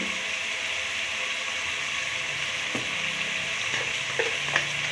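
Tomato with turmeric powder fries in a hot pan, a steady bright sizzle throughout with occasional scraping clicks from stirring.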